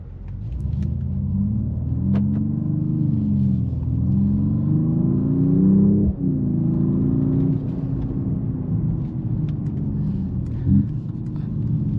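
A 2026 Mercedes-AMG E 53 Hybrid sedan driving in Sport mode, its engine rumbling steadily from inside the cabin with gentle rises and falls in pitch as it shifts through gears, plus a faint thump midway.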